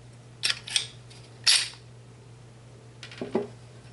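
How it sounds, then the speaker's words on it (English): A bolt slides off the guide of a Mossberg 702 Plinkster trigger assembly, giving a few short metallic clicks and scrapes up close, then a faint rattle after a pause, over a low steady hum. "It'll just slide right off of the guide."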